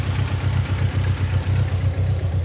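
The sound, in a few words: car engine idling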